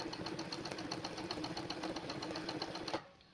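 A zigzag sewing machine running a running stitch, whirring at a fast, steady rhythm of rapid needle strokes close by, then stopping abruptly near the end.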